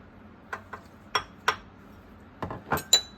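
A spoon clinks against a bowl while stirring yeast and sugar for homemade bread, giving a handful of sharp, close metallic taps spaced irregularly, some bright and ringing, over a quiet background.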